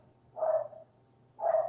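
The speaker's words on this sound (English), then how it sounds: "you might hear my dog in the background as well" Pet dog at home in the background, two short muffled barks or yips about a second apart, faint and somewhat distant over a quiet low hum.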